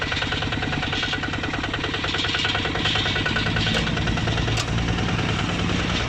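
A Kubota ZT155 tractor engine runs at a steady idle, a loud, close, continuous chugging throb with an even beat that holds for the whole stretch.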